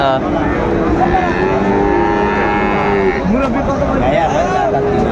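Cattle low repeatedly at a busy Raniganj cattle market, with long moos rising above a dense crowd murmur and voices talking throughout.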